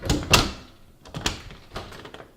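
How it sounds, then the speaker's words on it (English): A back door of a home opened and closed several times, each cycle a sharp thunk and latch click followed by a quieter rattle, close and alone. "We'll open and close the door 3 times to make sure."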